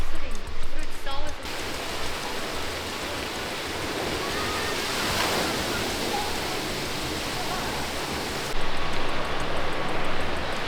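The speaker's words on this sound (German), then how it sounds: "dann plötzlich hier ganz viel Wasser drin. Spritzt alles." Water gushes hard and splashes into a campsite washbasin, a loud, steady hiss of spray lasting several seconds between short bursts of talk at the start and end.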